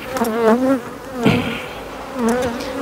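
Honey bees buzzing around an opened hive during colony work before overwintering, a close, steady droning with shifting pitch that swells and fades as individual bees pass near.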